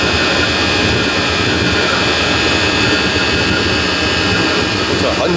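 A Chinese diesel heater runs at full power, giving off a loud, steady roaring whoosh like a small jet that holds constant throughout with no clear breaks.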